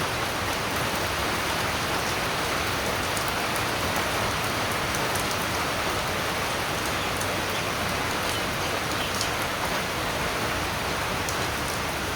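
Steady morning rain falls continuously on surfaces, a dense, even hiss that stays loud and unbroken throughout with no voices.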